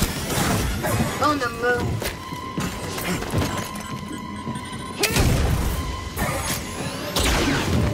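Grenade blasts and combat booms in Star Wars Jedi: Fallen Order arrive as heavy thumps and crashes amid game music and shouted character dialogue.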